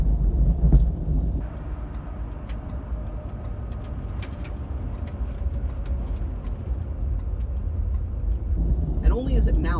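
A Crown Victoria engine-braking in second gear on a deceleration lane gives a steady, loud low drone heard from inside the car, with a voice at moments and some light ticking.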